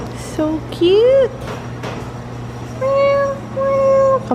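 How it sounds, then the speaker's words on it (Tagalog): Several cat meows at a cat cafe in Seoul, two drawn-out calls early and two more near the end, fairly close and clear, with people chatting softly in between. "Kamukha ng pusa ni Bea"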